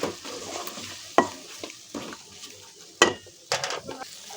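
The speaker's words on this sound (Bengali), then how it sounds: "সামান্য করে ভালো করে নেড়ে এটাকে কষিয়ে তেল তুলে নেব" Rohu fish curry stirred and sautéed in oil in a pan: soft sizzling underneath, punctuated by several sharp scraping clatters of a spatula against the pan at irregular intervals.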